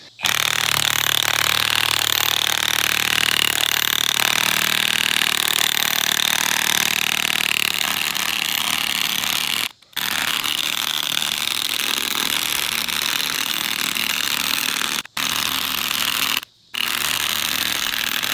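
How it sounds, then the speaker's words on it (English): A powerful cordless drill whirs and grinds continuously at close range, screwing a ground anchor in for an aviary, loud and steady, with brief pauses as the trigger is released, no talking. "Let me drill one of these in and show you what it takes here."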